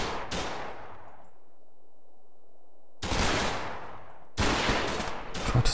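Small-arms fire from a World War II tactical wargame set around Market Garden, coming in three separate loud volleys with quiet gaps between them.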